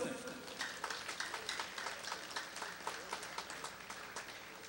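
An audience claps for Bernier-Sylvain and Gamal Augustin in a steady, fairly quiet run of applause that goes on evenly for several seconds without a break.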